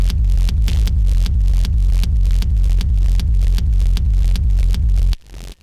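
Heavy, distorted electronic kick drums through a Sherman filter distortion unit pound in a steady four-on-the-floor rhythm, loud and gritty with a buzzing low end, cutting off near the end.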